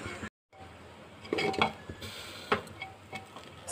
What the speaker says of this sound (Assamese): চাউলখিনি দিয়াৰ পাছত মই এনেকৈ অলপমান সময় ভাজি ল'ম